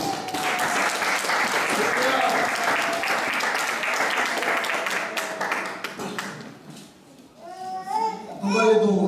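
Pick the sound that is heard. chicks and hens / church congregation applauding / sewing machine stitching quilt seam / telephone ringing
church congregation applauding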